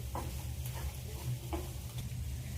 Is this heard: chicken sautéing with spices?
yes